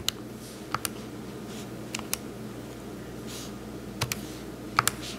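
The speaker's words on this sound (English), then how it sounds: "So I'll go to my calculator, and I'll type in my e to the" Sparse, quiet clicks of fingers pressing calculator keys while entering an equation, a few isolated taps and short pairs spread over a faint background hiss.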